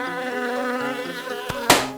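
Steady buzzing of a cartoon bee in a children's drawing show, a continuous droning hum that ends in a sharp pop.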